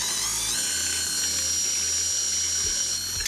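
An electric stand mixer beats cake batter for a grapefruit cake, a steady high-pitched motor whir with bright harmonic tones running continuously, close and fairly loud, with slight shifts in the low hum partway through.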